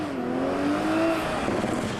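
2020 Toyota Supra with a twin-scroll turbo engine accelerating hard in a passing run, a loud rising engine tone that climbs and holds steady, heard from close by without talk.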